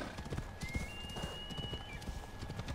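Horse hooves clip-clop steadily in Assassin's Creed Odyssey, with an occasional faint whinny over a continuous game ambience and no one talking.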